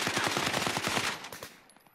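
Rapid automatic gunfire in an online battle-royale video game rattles off in a fast, loud burst for about a second, then thins into a few scattered shots that trail away.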